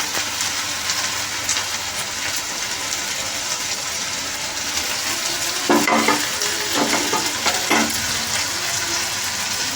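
Fried chicken drumstick pieces for an Asian-style dish are stirred in a pan with a little frying oil, giving a steady close sizzle with a burst of scraping, clattering stirring strokes partway through.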